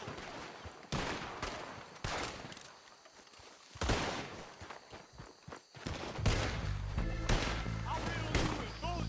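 Western-era gunfire from a Red Dead Redemption 2 shootout comes in sharp repeated bursts and volleys, with thuds and shouting voices between them.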